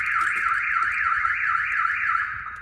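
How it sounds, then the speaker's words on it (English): A car alarm wails on a 1968 Chevrolet Nova, a loud, close, rapidly warbling siren tone cycling steadily before dropping off at the end. "oh, there's the alarm"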